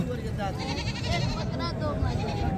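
Goats bleat repeatedly at a livestock market in Rajanpur, Punjab, Pakistan. Several wavering, nasal cries overlap close by, amid steady crowd noise and people talking.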